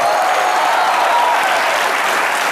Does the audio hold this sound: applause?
yes